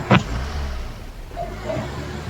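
In a video game, a car engine approaches from behind as a low rumble, opened by a sharp click and followed by faint tonal blips.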